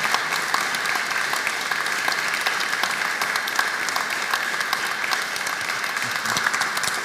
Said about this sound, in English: So can we just give you a clap for saying thank you for doing that?